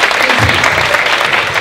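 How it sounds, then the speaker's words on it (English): Dense, loud audience applause in a class or lecture setting, a steady wash of many hands clapping close by with no gaps. "Give a round of applause."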